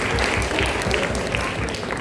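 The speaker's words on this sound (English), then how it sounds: "Please clap for Raj from Punjab." A session audience claps for a participant, giving a dense, continuous wash of many hands with a low rumble underneath, steady and fairly loud from start to finish.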